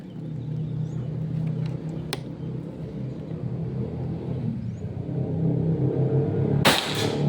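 A Predator Pajero Gun Gen 6 air rifle fires a single sharp shot near the end during an accuracy test in Central Java, a brief crack over steady low outdoor rumble.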